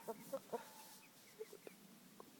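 Ornamental-breed chickens with a hen and chicks wandering about, giving a few soft clucks and short chirping calls at close range in a quiet setting.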